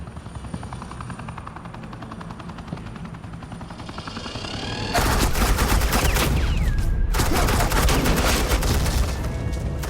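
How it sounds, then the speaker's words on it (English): Machine-gun suppressing fire in the video game Batman: The Enemy Within, a loud, dense burst of rapid shots that starts suddenly halfway in over a steady helicopter drone, with a brief gap before firing resumes. "suppressing fire."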